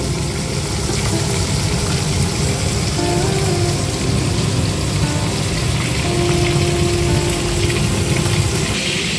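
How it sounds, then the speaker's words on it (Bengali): Marinated rohu fish pieces frying in hot oil in a kadai, a dense, steady sizzle close by that keeps going without pause, with no talking over it. "এই মাছগুলিকে এখন কড়াইতে এভাবে ভালো করে ভেজে নিতে হবে, লাল লাল করে।"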